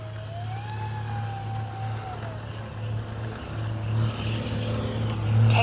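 An X-Fly Twin Otter 1800mm RC plane with takeoff flaps set gives a steady droning hum with thin tonal whines, swelling louder toward the end as it powers up for takeoff, with no voices.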